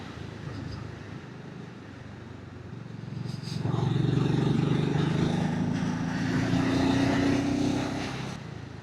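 A BSA Goldstar 650 motorcycle engine is heard while riding on the road: a faint hum builds into a louder, rising drone as the bike accelerates, then holds steady with some wind noise.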